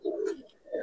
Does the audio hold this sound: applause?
no